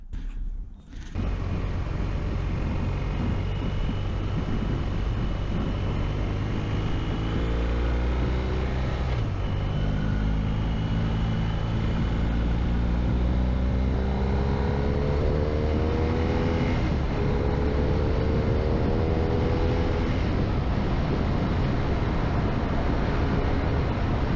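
BMW R1250R motorcycle on a test ride, a loud continuous engine drone heard from the rider's position with wind rush and several rising pitch sweeps as it accelerates through the gears, no talking.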